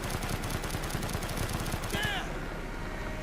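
Automatic gunfire in Call of Duty: Black Ops: a fast, steady rattle of close shots lasting a couple of seconds, then a short whistling tone as firing ends, with a voice faintly underneath.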